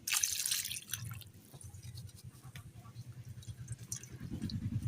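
Water drips and trickles softly at close range while pangas fish heads are washed by hand in a village kitchen, a faint uneven patter with occasional small splashes and no speech.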